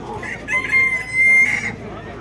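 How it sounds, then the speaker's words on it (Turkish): A rooster crows nearby at a live animal market, a long drawn-out call rising and holding, heard over a soft steady background hum. "Gördüğünüz gibi horozumuz ötüyor maşallah."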